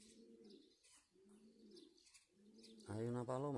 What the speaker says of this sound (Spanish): Hay una paloma ahí.